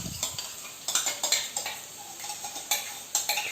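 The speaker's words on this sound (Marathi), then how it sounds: "ते असं चांगलं जरा फेटून टाकते." Three spoonfuls of yogurt are beaten with a spoon in a bowl in a home kitchen. Quick metallic scrapes and taps come in irregular bursts, fairly close, with no speech.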